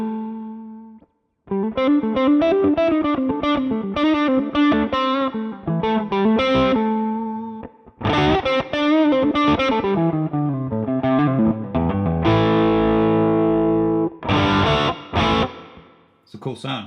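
Electric guitar played through a Mooer Prime P1 pocket pedal on a Gold Clon overdrive, gain and tone down, volume up, with reverb lowered; loud strummed chords and ringing notes, broken by short pauses.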